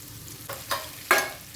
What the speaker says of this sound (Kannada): ಎಣ್ಣೆ ಜೊತೆಗೇ ಫ್ರೈ ಆಗಬೇಕು.